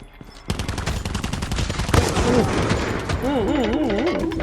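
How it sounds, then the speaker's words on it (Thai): Rapid bursts of GKS gunfire in Call of Duty, a dense run of shots starting half a second in, with playful warbling, bubbly sweeps layered over the later fire. "เสียงยิงน่ารักเนาะ ออกออกแนวแบบฟองๆหน่อย ออกแนวแบบบับเบิลหน่อย"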